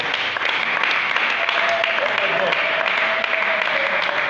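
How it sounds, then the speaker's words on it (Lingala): A church congregation at a live worship service applauds and cheers, producing steady dense clapping with voices mixed in and a sustained tone underneath. "on acclame très fort le roi de roi"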